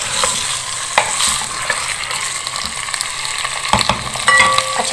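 Mutton being stirred as it fries in a pot for kunna gosht, steady sizzling with scraping and clinking of the spoon against the pot, close and fairly loud with no talk.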